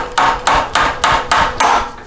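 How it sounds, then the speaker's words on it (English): Hammer striking to break loose the bolts on the rear drive of a 1983 BMW R80ST motorcycle, six sharp metallic blows in an even rhythm, close and loud with no talking. "And then if you take a hammer,"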